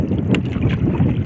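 Wind rushes and buffets steadily against the microphone on a breezy fishing outing by the water, loud and constant with faint knocks underneath and no voices.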